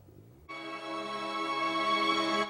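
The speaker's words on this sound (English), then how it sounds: "That's the sound of professional musicians hard at work, making the underlying music for an Australian feature film called Crushed." Ensemble of professional musicians recording the score for an Australian feature film: after a faint start, a sustained, rich harmonic chord swells in and holds steadily, fairly close and without voices.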